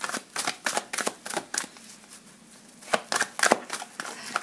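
Oracle cards being shuffled by hand, a rapid run of crisp close riffling bursts with a short pause midway before the shuffling resumes, no voices.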